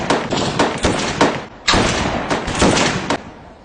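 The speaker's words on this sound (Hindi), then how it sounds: "5 राउंड ग्रुप फायरिंग।" A quick series of rifle shots in an army-themed film scene, loud and close, the echoing blasts following one another with short gaps between them.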